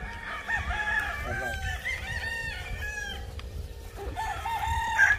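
Gamecock roosters on a game farm crow repeatedly, several long cock-a-doodle-doo calls overlapping from nearby and farther off, mixed with clucking over a steady low background.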